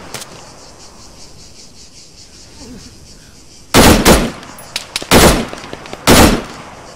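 Arma 3 gunfire crackles in short, loud bursts over a steady hum of insects and crickets, with several volleys clustered toward the end.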